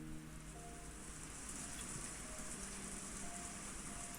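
Heavy rain pours in the Higurashi visual novel, a soft but steady wash of hissing drops that continues evenly throughout, with no voices.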